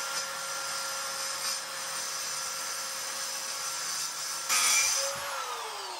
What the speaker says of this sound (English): I've got to cut it with a power saw, which could be interesting